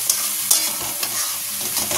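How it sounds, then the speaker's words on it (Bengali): Spice paste with cashew is sautéed in oil for a doi katla fish curry, a close sizzle with crisp spatula scrapes and stirring clicks, alone and without talk. "এই মশলাটা দিয়ে দিলাম, দিয়ে এটাকে বেশ ভালোভাবে কষিয়ে নেব।"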